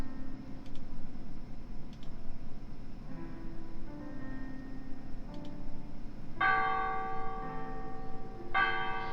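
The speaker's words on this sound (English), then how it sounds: "The bells of the church, it seems that the priest is calling a mass." Church bells in the video game The Last Door ring out at a church in the cemetery in several spaced, resonant strokes, with bright chiming bursts near the end over a low ambient game drone.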